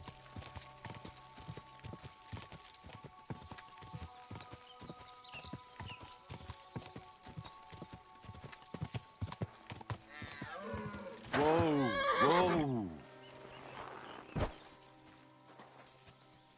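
Video game horse hooves clip-clop in a steady walking rhythm, followed by a loud whinny and a final thud, with game background sounds underneath.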